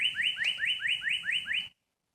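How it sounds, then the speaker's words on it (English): On a nature walk in Longwood, Florida, a bird gives about eight rapid, rising whistled calls in an even rhythm, fairly close and clear, then falls silent. "I want you to hear the birds out here."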